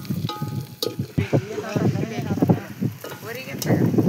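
Sizzling oil as food fries in a pan, crackling and bubbling up close in uneven bursts, with people talking in the background.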